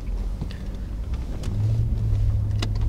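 Volkswagen Phaeton pulls away with a low engine rumble that swells slightly partway through, close and moderate in level, with a few faint clicks and knocks from the cabin.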